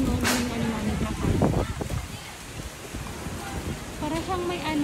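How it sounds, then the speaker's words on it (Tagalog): Strong sandstorm wind roars and gusts continuously, close and loud, with a voice briefly audible amid the blustery noise. "Ang hangin sa labas. Lakas ng hangin,"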